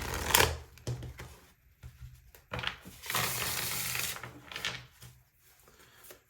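Tarot cards being shuffled by hand: irregular papery riffles and rubbing bursts come in uneven clusters, close and fairly quiet, with brief pauses between them and no talking.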